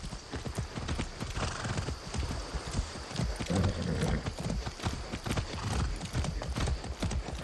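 Rapid hoofbeats of a galloping horse in the video game Far Cry 6, rhythmic and close, with a brief whinny in the middle; no talking.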